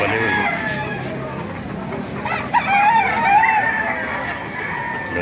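Chickens and roosters at a poultry market in Baliuag, Bulacan: clucking and crowing from several birds amid a busy crowd, with people talking throughout.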